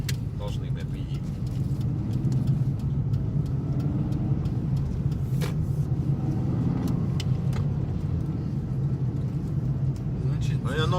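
A chipped Tagaz Vega C100 car drives in third gear, its engine a steady low hum and rumble inside the cabin, with someone talking over it.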